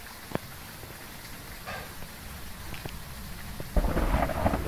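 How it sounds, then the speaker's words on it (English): Deep thunder rolls in a rainstorm, with a sharp early crack and low rumbles over steady rain hiss, the downpour growing louder and closer toward the end. "Damn thunder."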